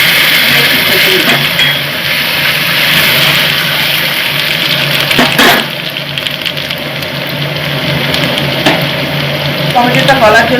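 Tomato frying in a pan with hing for a Bengali dhokar dalna, a loud, steady sizzle and hiss that runs throughout, close up, with no talking.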